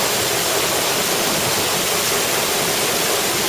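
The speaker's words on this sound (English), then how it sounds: "And this is what it's like underneath a waterfall." A mountain waterfall in Norway, heard from underneath, roars as loud, dense, unbroken rushing water with no other sounds.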